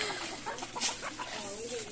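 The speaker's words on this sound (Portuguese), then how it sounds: "Olha o tanto de galinha, gente." A flock of hens and a rooster at a small farm cluck softly in short, scattered calls, fairly close but quiet, with some people talking nearby.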